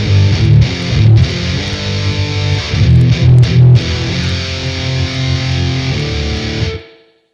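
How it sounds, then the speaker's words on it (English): Loud, heavily distorted high-gain electric guitar through a Headrush NAM profile chugs out a rhythmic riff, then rings out and fades to silence at the end. "So I've got a good high gain rhythm"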